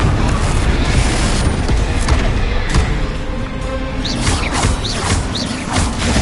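Confringo blasting spell explosions from Hogwarts Legacy, a dense, loud run of booming blasts and crackling bursts that fills the whole stretch with steady noise.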